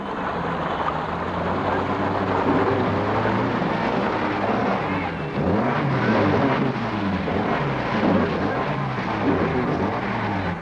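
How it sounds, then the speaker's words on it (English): A 1970s Peugeot Safari rally car churns through slippery Kenyan mud, its engine droning loudly and steadily with rising and falling revs throughout. "There's nothing quite as slippery as Kenyan mud, as Jean-Pierre Nicolas' Peugeot demonstrates at this control."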